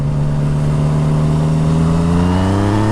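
A 2014 Yamaha MT-09 motorcycle with a full Akrapovic exhaust accelerates hard, its loud, steady engine note rising in pitch throughout without pause.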